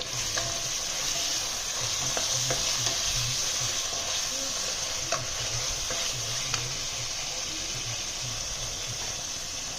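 Onions and two medium tomatoes sauté in a pan for restaurant-style mushroom biryani, giving a steady close sizzle broken by occasional scraping stirs of a utensil, with no talking.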